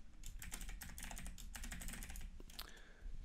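Rapid typing on a computer keyboard while working in the Vim text editor, a close, quiet run of irregular key clicks with a slightly heavier keystroke near the end.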